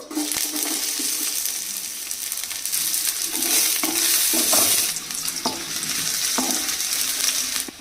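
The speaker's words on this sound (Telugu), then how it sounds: "గోంగూర మటన్ కోసం ఒక హాఫ్ కప్ ఆయిల్ వేస్తున్నా ఇప్పుడు దీంట్లో ఉల్లిగడ్డలు" Onions frying in half a cup of oil for gongura mutton curry, a loud continuous sizzle and crackle close by, with a few clicks and knocks of a spoon against the pan.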